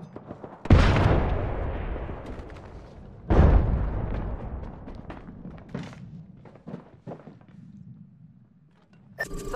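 Two heavy grenade blasts in Apex Legends, each a loud boom with a long rolling tail, followed by scattered distant gunshots and thuds.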